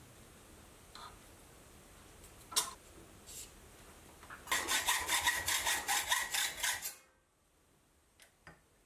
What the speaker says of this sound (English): I'll relieve it with a hacksaw